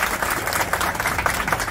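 A brief burst of dense clapping from the people seated on stage at a public gathering about teacher recruitment, applauding the crowd; close and continuous with no pauses.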